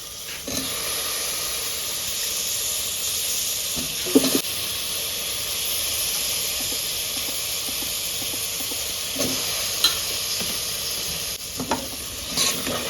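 Chunks of brinjal and potato being stirred into a red-fried masala, a steady close sizzle running throughout with occasional louder scrapes and clatters from the spoon against the pan.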